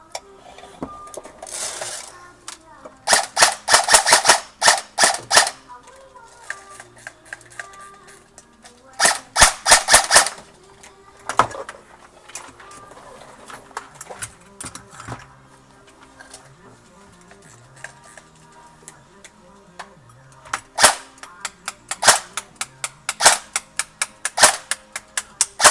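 An Echo 1 M14 airsoft rifle fires 0.2 BBs indoors in clusters of rapid snapping shots, loud and close, separated by quieter gaps with faint mechanical handling.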